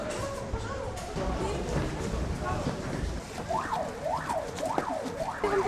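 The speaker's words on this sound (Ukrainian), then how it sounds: "офіційна тривога пожежна" A rising and falling wail sounds during a fire drill at a college, entering midway and cycling in repeated sweeps over background commotion and voices.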